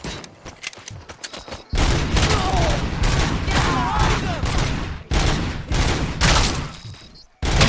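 Video game gunfire bursts in dense, loud volleys, firing in rapid sustained runs with brief pauses between them.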